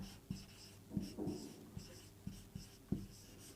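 A teacher writes the word silicon on a board during a physics lesson. Several short, distinct marker or chalk strokes tap and scrape near and clear over a quiet room.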